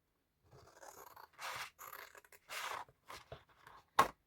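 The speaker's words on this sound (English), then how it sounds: "I've got a large pair of scissors." Large scissors snip through the corners of a craft shadow box, giving several separate crunchy cuts of varying length, close and moderately loud, ending in one sharp snap.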